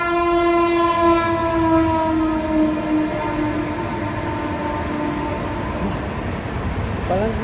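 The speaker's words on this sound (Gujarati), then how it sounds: "રેલગાડી" Train passing near a rooftop terrace, its loud sustained horn blaring for about three seconds and then fading as the wagons rumble and clatter steadily along the rails, with faint voices in the background.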